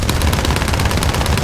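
Aircraft cannons firing in the War Thunder video game, a loud, rapid, continuous burst of rattling shots in a steady rhythm.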